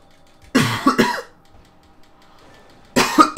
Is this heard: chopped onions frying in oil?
no